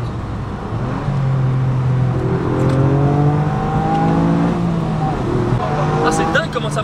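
A three-cylinder Mini accelerates hard while driving, its engine note climbing steadily in pitch through the gear, then dropping and rising again. The engine is loud and close inside the cabin, with voices underneath.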